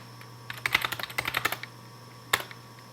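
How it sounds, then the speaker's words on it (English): Commands are typed on a computer keyboard in a quick burst of close, crisp key clicks, then a pause and a final couple of presses, over a faint steady hum. "Oops, typed exit once too often."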